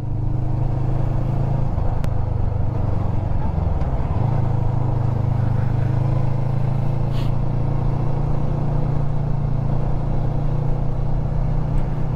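Vehicles pass on a twisty mountain road between Manila and Malico, a pickup truck and a motorcycle going by, heard as a steady low engine rumble under constant wind noise with a brief shift in tone midway.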